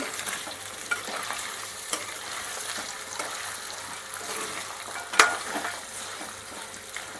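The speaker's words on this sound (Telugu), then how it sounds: "అడుగు అంటకుండా తిప్పుతూ ఉండాలి" Small pieces of bone-in mutton frying in a pan for an Andhra-style mutton fry, with a steady close sizzle and repeated scraping stirs, one sharper clank of the spoon near the end; no talking.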